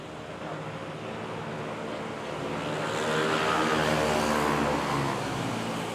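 Airbus A330 airliner taking off with an early rotation at Manila's NAIA airport, a broad steady jet roar that swells louder midway and holds, distant and continuous with no talk.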